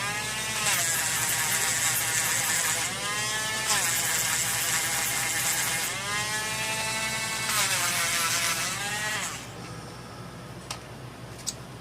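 Sanding a silver 50 Schilling coin ring with 2000 grit paper on a rotary tool: a loud, close, steady high whir in several long bursts with brief dips between, fading out near the end.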